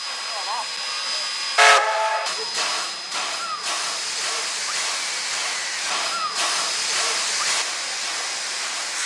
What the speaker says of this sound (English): The warehouses and mills of Timaru provide a traditional setting for a majestic steam departure.